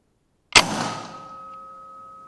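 A single sharp PCP air rifle shot strikes a metal cat-shaped target at night, a crisp crack followed by a ringing clang that lingers and fades over a couple of seconds.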